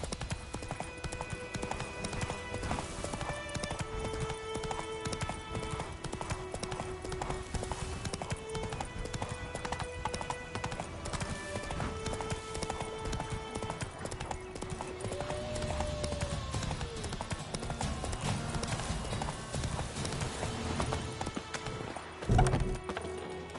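Roach, the horse in The Witcher 3, gallops with steady rhythmic hoofbeats that run continuously under game music. Near the end comes a brief thud.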